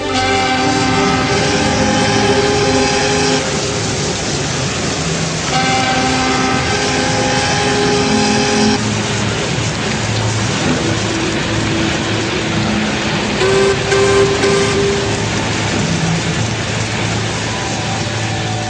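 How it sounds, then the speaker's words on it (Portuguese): A tugboat engine drones in a dense, steady rumble with sustained humming tones layered on top, loud and continuous throughout, with no voices. "O som do motor aumenta,"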